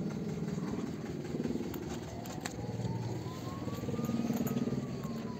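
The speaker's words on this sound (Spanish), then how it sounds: "Ha llegado mi tío con el tractor" A tractor engine rumbles steadily nearby as it arrives at a fire-scorched rural farm in the hills, a low continuous drone that swells slightly toward the end, with a faint rising whine overlaid.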